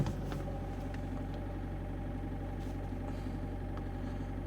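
Opel Zafira B 1.9 CDTI Z19DT diesel engine idling at a raised 1500 rpm, a steady, close low rumble with even diesel clatter throughout and no voices.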